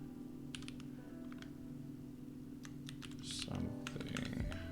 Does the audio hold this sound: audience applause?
no